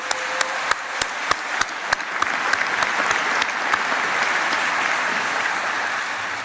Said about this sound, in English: let's give the band and the chorus another round of applause.